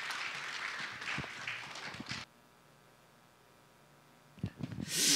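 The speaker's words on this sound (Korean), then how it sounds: "격려의 박수를 한번 부탁드리며" Applause of encouragement from a church congregation, a burst of many hands clapping for about two seconds that cuts off sharply, then near silence before a brief swell of noise returns.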